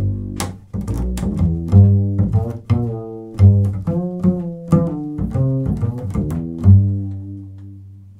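An acoustic upright bass plays a short melodic phrase through a ToneDexter, with distinct plucked notes, each with a firm attack and a warm, resonant decay, heard up close and alone.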